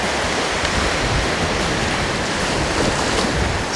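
Steady, loud wash of ocean waves at a shallow, calm reef park by the shore, an unbroken roar of surf and wind with no voices.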